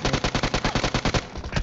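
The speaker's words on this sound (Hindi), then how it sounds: "ये वाले शॉटगन शॉट के लिए तो लाइक तो बनता है यार" Rapid shotgun blasts from PUBG Mobile gameplay, a dense run of about a dozen loud, evenly spaced booming shots fired in quick succession, then a few more after a brief dip.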